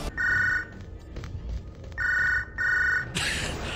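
A telephone bell rings in three loud, steady bursts separated by short pauses, followed by a brief noisy clatter at the end, with no voices.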